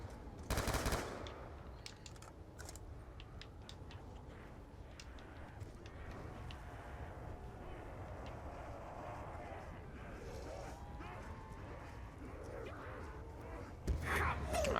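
Rapid bursts of automatic gunfire shooting zombies on the Nuketown map in Black Ops 2 Zombies, loud at the start and again near the end, with a continuous mix of game noise and a player talking in between.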